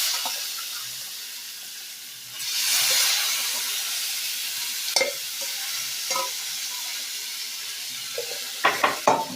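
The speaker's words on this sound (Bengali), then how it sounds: "এবার এখানে আমি দিয়ে দেবো 4টে আলু কেটে নিয়েছি, আলুটাকেও কিন্তু এর সঙ্গে ভেজে নেব" Cut potatoes tipped into a pan of eggs already fried, Bengali home cooking, with a steady sizzling hiss that swells after a couple of seconds, plus a few sharp utensil clinks and scrapes near the end; no talking.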